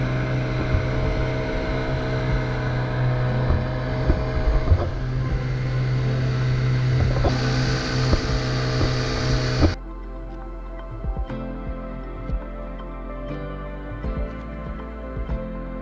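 Outboard engine of a motorized dinghy running steadily beside a sailboat in windy Bahamas waters, a loud continuous drone that drops to a lower, quieter idle partway through.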